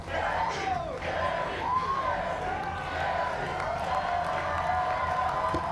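A crowd cheering and shouting at a fight, a steady loud roar of many voices with a few rising yells, continuous throughout.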